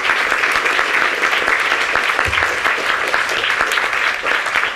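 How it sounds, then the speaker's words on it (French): Audience applause at the close of a conference on police and justice, a dense sustained patter of many hands clapping throughout, fairly close and even in level. "je vous conseille de faire un tonnerre d'applaudissements pour cette contribution"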